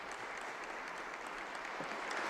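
Diplomats in a large Vatican hall applaud Pope Francis, a faint, distant, steady wash of clapping without clear individual claps.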